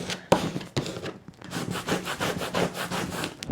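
Transfer tape being burnished onto cut vinyl with a scraper tool, a steady close rubbing and scraping with repeated strokes and a few sharper knocks at the start and end.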